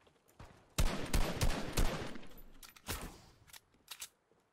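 Gunfire in Fortnite Battle Royale video game: a cluster of sharp shots in quick succession, then a pause and a few more scattered cracks, fairly close and loud with no talk.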